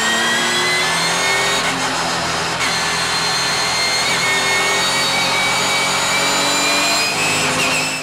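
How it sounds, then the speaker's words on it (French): Onboard the BMW touring car of a Belgian circuit race at Mettet as the field launches from the start: loud, sustained engine roar with rising and falling revs through gear changes, steady and close throughout. "Un départ que l'on revoit depuis l'habitacle de la BMW de Benoît Navé"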